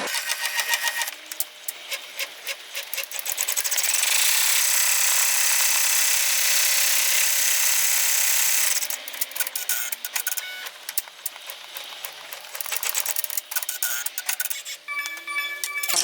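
An embroidery machine stitches a placement line for an in-the-hoop mini composition book cover, giving rapid rhythmic needle clatter, then a steady louder whir for several seconds, then more stop-start stitching bursts.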